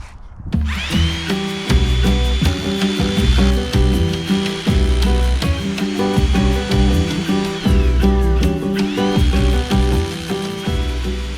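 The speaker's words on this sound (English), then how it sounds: "And then into the concrete, I'm gonna use my Hilti, which you could use anything with a hammer drill setting" A loud Hilti hammer drill grinds steadily into concrete with a rattling hammer action, briefly pausing and restarting near the end.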